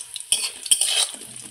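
Fish roe fritters frying on low heat in a pan, a soft sizzle broken by a few sharp spatula scrapes and clinks against the pan, close and without talk.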